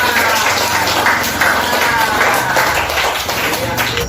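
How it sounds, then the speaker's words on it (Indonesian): Classroom clapping from a group of pupils during a lesson, loud and close, with quick irregular claps that blend into a dense patter for a few seconds. "Iya, tepuk tangan buat kita semua."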